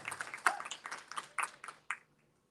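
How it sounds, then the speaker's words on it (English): Scattered audience clapping at a pageant spokesmodel competition, a modest burst of individual hand claps that thins out and stops after about two seconds. "Let's give them a big round of applause"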